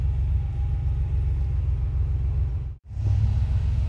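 A freshly rebuilt 3.2-litre Porsche 911 engine idles after warm-up, a steady low rumble that holds even and continuous, briefly cuts out for an instant near the end and then resumes, with no voices.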